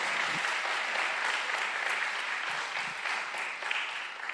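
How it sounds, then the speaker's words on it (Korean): A congregation at a Korean church's Friday worship service applauds with continuous, even clapping that fills the room for about four seconds. "박수 좀 쳐주세요"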